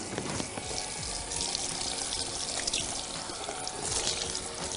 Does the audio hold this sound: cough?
no